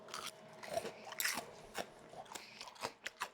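Homemade fried chicken being bitten, a few crisp crunches followed by chewing crackles in an uneven rhythm, close but quiet, with no talking.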